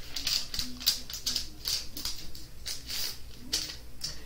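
Parchment paper strips being folded in half by hand, giving a series of crisp, close crinkling rustles and light taps at an irregular pace.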